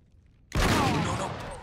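Shotgun fire in the video game Uncharted 3 erupts as one sudden loud burst after a quiet start, then rings on with a dense, rumbling tail.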